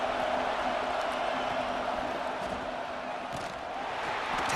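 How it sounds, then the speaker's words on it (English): A stadium crowd in the video game College Football 26 roars in a steady, dense wash of noise, with no clear peaks and no other sounds standing out. "the crowd coming to life here, trying to help this defense down in the red zone"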